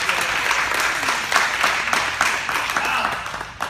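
A round of applause at a martial arts belt promotion, steady clapping from a modest group close by that runs the whole time.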